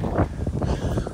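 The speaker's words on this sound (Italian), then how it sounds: "Fa un po' fresco perché c'è un po' di vento" Gusty wind blows outdoors at a campsite, with strong gusts reported above 50 km/h, producing a steady, loud, low rumble of buffeting against the microphone throughout, with no other clear sounds.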